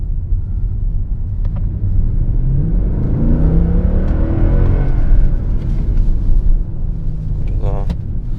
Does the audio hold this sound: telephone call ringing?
no